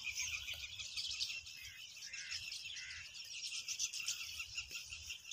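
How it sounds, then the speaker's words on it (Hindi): Village birds chirp and twitter in a quiet rural setting, a continuous layer of faint high calls with insects buzzing softly underneath. "आप गांव के पंछियों की आवाज़ सुनिए"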